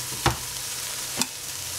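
Cooking oil sizzling steadily in a pan before vegetables are added, a constant hiss with two brief sharp crackles or stirring scrapes, no talking.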